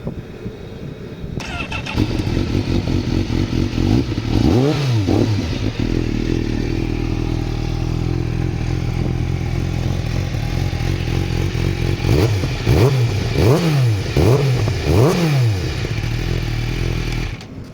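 A 2022 Honda CBR1000RR-R SP sport motorcycle engine push-button starts and idles loudly up close, then gets revved several times in sharp rising-and-falling bursts.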